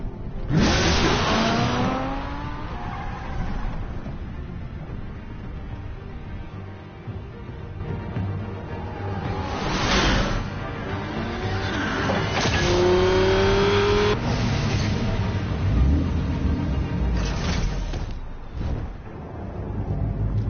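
Car engines in the Batman Telltale Series video game rev and accelerate repeatedly, with rising pitch sweeps and several loud surges over steady driving rumble, close and loud throughout.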